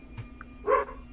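A dog sitting on a couch gives a single short, fairly close bark, preceded by a couple of faint small sounds in an otherwise quiet room.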